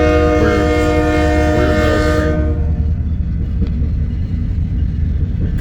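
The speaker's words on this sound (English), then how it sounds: "This is the Fremont Intermodal train." A loud freight intermodal train rumbles past at close range near Fremont, Nebraska, its multi-tone horn blaring for about two seconds before cutting off, leaving heavy continuous rolling rumble and clatter of the cars.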